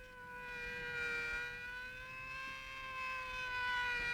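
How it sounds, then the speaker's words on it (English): A police car siren wails steadily at a distance, its tone rising and falling slightly while staying faint and continuous throughout. "It's a police car."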